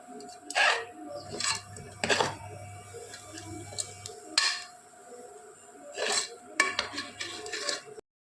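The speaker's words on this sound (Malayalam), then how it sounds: "ഇത് നമുക്ക് നന്നായിട്ടൊന്ന് ഇളക്കാം" A spoon scrapes and clinks against a pan while stirring a thick gravy seasoned with two spoons of garam masala, giving irregular close metallic taps and knocks, with a voice murmuring faintly at times.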